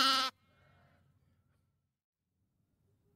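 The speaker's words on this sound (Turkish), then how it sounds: "Kuzular me diye ses çıkarır." A lamb gives a single short, loud bleat, close and alone, followed by near silence with only faint low rustling.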